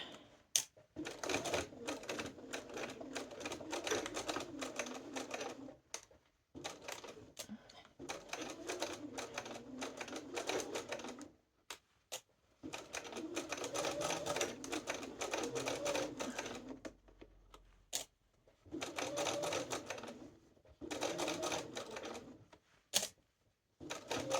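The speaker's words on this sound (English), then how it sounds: "Just stitch right back on that line, that stitching line that you did before." A sewing machine stitches through several layers of fabric while making bias binding, with long bursts of rapid mechanical chattering broken by short pauses, close and fairly loud.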